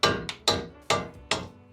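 Four sharp metallic hammer blows on a wrench land in an uneven rhythm, each clang ringing briefly, close by, as the wrench loosens mounting bolts during a wheel bearing job on a 2005-2015 second-generation Toyota Tacoma.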